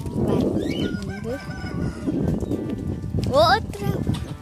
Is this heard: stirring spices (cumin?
no